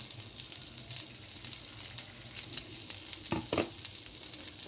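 Pork meat sizzling and frying in a pan for mee sua soup, a steady close hiss with a brief louder spatter of stirring near the end, no voices.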